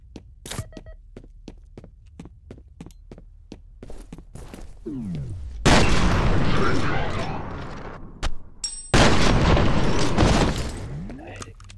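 Automatic rifle fire in the game F.E.A.R., two loud sustained bursts of rapid shots, preceded by sharp single clicks and thuds, with a voice talking over parts of it.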